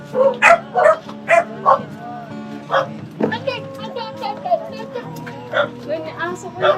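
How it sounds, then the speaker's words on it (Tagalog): A dog barks repeatedly in short, loud, close bursts mixed with whimpering yips, while children's voices and chatter carry on underneath. "May aso ko yan eh."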